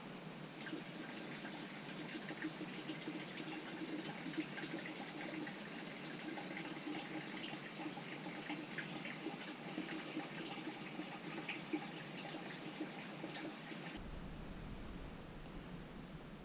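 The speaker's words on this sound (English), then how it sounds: "Pour some more in." Oil pours steadily into the engine of a Kawasaki Mule Pro DX utility vehicle, a continuous liquid gush that runs without a break for about fourteen seconds and then cuts off abruptly, leaving a low hum.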